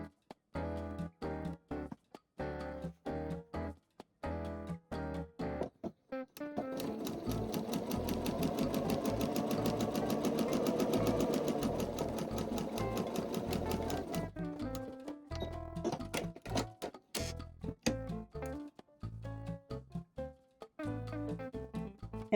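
A sewing machine stitches quilt blocks together, running in short stop-start bursts at first, then in a long, steady, whirring stretch of close, rapid stitching, then in short bursts again.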